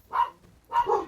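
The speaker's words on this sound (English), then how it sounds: "apologize for the dogs again" Dogs barking indoors behind a gaming session, two short barks spaced apart, moderately loud and a little distant.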